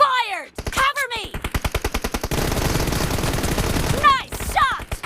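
Rapid automatic gunfire rattles in a team deathmatch shooter game, with fast bursts of evenly spaced shots and a dense stretch of sustained firing, framed by short whooshing effects and game voice callouts.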